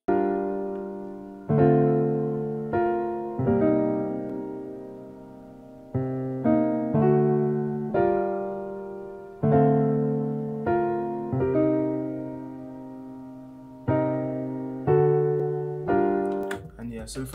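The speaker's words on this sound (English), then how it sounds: "the keys come in. They sound like this." Vintage-style R&B keys play as a sample in Ableton, sustained electric piano chords struck in a slow repeating progression, each chord ringing and decaying clearly with no voices over them.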